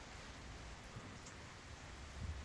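Steady rain falling, a dense soft hiss of drops with low patter on surfaces, continuous and fairly quiet, with no voices.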